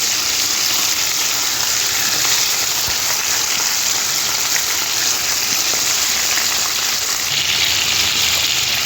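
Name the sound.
chicken frying on high flame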